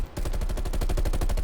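Rapid automatic gunfire in Black Ops Cold War, a dense loud stream of evenly spaced shots firing continuously and close, with no other sound.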